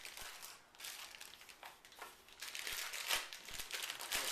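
Plastic packaging crinkles and crackles steadily as IK Multimedia iLine music cables are unwrapped, a close, continuous rustle with small bursts of crumpling and no talk.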